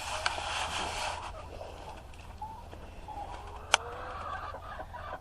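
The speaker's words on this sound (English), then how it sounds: "That little Cornish hen, she's 8 years old." An 8-year-old Cornish hen clucks softly in short, scattered bursts over a steady low background hum, with one sharp click partway through.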